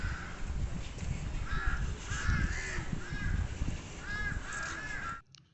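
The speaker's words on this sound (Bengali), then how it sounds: "তার আগে একটু পাখিদের আওয়াজ শুনে নেবেন নাকি? শুনতে থাকুন।" Crows cawing in the garden of a riverside garden house in Konnagar, repeated harsh calls in short bursts at moderate distance over a constant outdoor hiss, with no talking.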